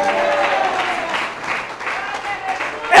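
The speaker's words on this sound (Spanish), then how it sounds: "¡Aplauda a Dios!" A church congregation claps and cheers steadily for a few seconds, with voices mixed into the applause and a sharper burst right at the end.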